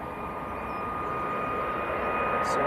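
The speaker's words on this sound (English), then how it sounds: "we've got the all-white 737 operating for TUI" An all-white TUI Boeing 737 airliner at Manchester Airport gives a steady, broad engine roar that slowly swells over a few seconds, with a faint high whine riding above it and no talk.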